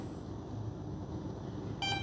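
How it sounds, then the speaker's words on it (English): An RC plane's electronics, an FMS T-28D Trojan 1.4 m warbird, give two short, bright startup beeps near the end, after a stretch of quiet low hum. "we have to wait for the 2 beeps"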